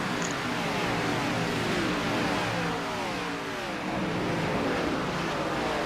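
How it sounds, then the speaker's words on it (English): NASCAR X Series race cars at Nashville Superspeedway, a dense continuous engine roar with rising and falling pitch as cars blast past, loud and sustained the whole time and dipping briefly near the middle. "Those are race cars."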